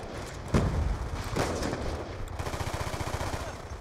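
Gunfire from a weapon in a video game: a couple of sharp loud shots followed by a rapid rattling burst of automatic fire, close and punchy with no talk over it.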